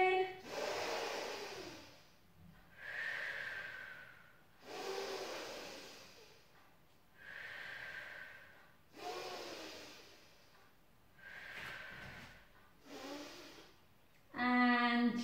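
Slow, deep breaths during a gentle pilates stretch, a series of about six long airy inhales and exhales near the microphone, each swelling and fading, with a brief voice at the end.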